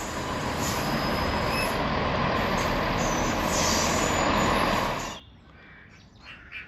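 Passenger train arriving from Exmouth, north of Dawlish, bound for Paignton: a loud, close rumble of wheels with faint squealing that holds for about five seconds, then drops off to quiet.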